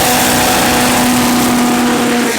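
Race cars at Tarlton International Raceway during a club event, one a BMW, a loud continuous engine roar with a steady tone, close and dense without speech.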